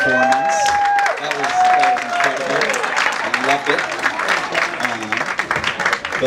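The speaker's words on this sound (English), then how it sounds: "I think we should all give Rich another round of applause for that performance." Audience applause after a comedy stand-up performance, dense and loud clapping from a crowd, steady across the whole stretch with a few tonal whistles or voices mixed in.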